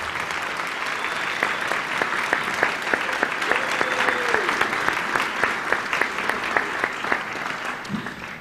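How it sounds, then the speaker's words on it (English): An audience at a high school spring band concert applauds the student musicians with sustained, dense clapping that fills the hall at an even level for several seconds, with a few sharper individual claps standing out near the end. "Please give them a round of applause."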